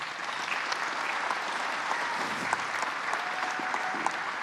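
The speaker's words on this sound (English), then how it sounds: "Let's give Jared a round of applause." Sustained audience applause at an archery tournament's men's open finals, a dense, steady wash of many hands clapping from a crowd, fairly distant and continuous throughout.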